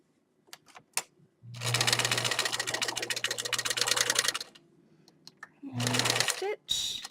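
A sewing machine stitches fabric in two loud, rapid bursts of mechanical clatter, a long run followed by a shorter one, with quiet handling noises and brief talk between.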